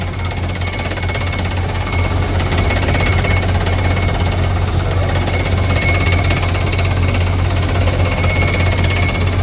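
A pneumatic air-powered well drilling rig bores for groundwater on farmland, a loud, constant rapid hammering and knocking with a heavy engine drone, steady and close, no voices.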